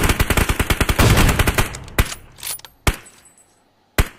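Rapid automatic gunfire in PUBG, a fast burst of sharp shots for about two seconds, followed by three single heavy sniper rifle cracks spaced apart, loud and close, with no talking.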